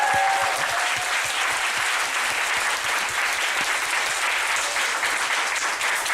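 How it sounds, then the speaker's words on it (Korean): A church congregation at a New Year's Eve service in Daejeon claps loudly and continuously, dense and even applause filling the room with no voices above it. "우리 다시 한번 하나님께 가장 큰 박수 영광을 올립니다."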